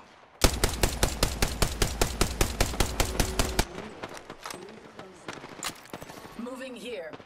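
Automatic gunfire in the Apex Legends video game: a rapid, evenly spaced burst of about fifteen sharp, loud shots, followed by scattered quieter single shots and in-game sounds, with a brief voice near the end.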